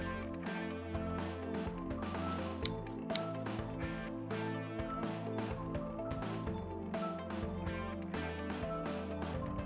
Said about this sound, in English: Now cut the fabric according to your measurements.